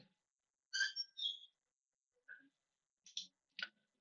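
A computer mouse clicks several times in a quiet room, giving sparse, sharp, close-up clicks with gaps between them.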